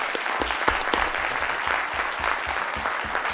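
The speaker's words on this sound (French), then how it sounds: "on les applaudit très chaud" An audience at a conference on the Middle East breaks into warm applause: dense, sustained clapping from many hands that fills the room evenly, with a few sharper claps standing out.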